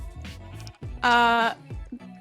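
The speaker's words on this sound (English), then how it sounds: "So this is Boat Sheep." A sheep in the Minecraft video game gives one clear, loud bleat, with people talking casually just before and after it.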